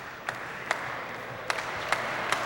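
A squash crowd at BCE Place cheers and applauds through a Canadian Classic 2003 match, a steady roar of noise pierced by several sharp claps or shouts at irregular intervals.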